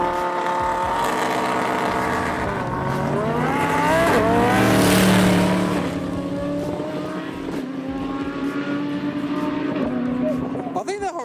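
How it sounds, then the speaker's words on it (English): A Koenigsegg Regera and a supercharged Lamborghini Huracan drag race side by side, their engines roaring loud and close with rising gear-change sweeps and a surge of noise near the middle, while people talk over the run. "we're lining up the Koenigsegg Regera with like a supercharged Lamborghini Huracan."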